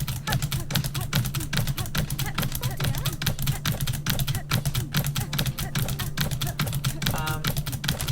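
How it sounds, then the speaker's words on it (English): A loud computer keyboard clacks in a fast, continuous stream of keystrokes, sometimes with brief bursts, heard up close under a steady low hum and light talking. "I do apologize for my keyboard sound as well."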